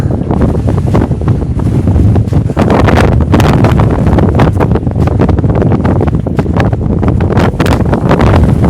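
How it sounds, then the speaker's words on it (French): Loud, constant wind buffeting the microphone, a roaring rumble with gusty crackles and no clear voices. "Il y a du vent, hein."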